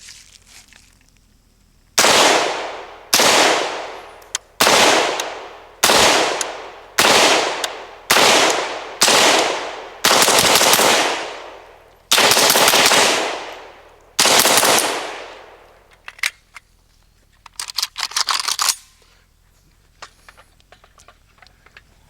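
A KUSA KR-103 rifle fires a string of loud, close shots, about a dozen sharp reports in an uneven rhythm with short gaps, some sounding as quick doubles, followed by fainter clicks and handling noise.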